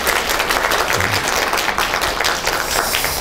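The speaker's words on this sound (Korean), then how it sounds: "박수 한번 칠까요?" Audience applause at a Korean lecture hall, a steady dense clapping from a crowd that fills the whole stretch at even loudness without pause.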